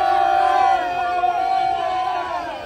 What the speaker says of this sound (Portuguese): A bagunça aqui na torcida.